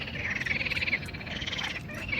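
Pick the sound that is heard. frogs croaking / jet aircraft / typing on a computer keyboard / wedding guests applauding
frogs croaking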